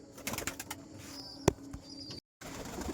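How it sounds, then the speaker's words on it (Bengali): Pigeons cooing softly nearby, with fluttering wingbeats and one sharp flap partway through, then a brief gap before the birds continue. "পায়রাগুলো কিন্তু একদম অস্থির হয়ে গেছে বাইরে বেরোনোর জন্য"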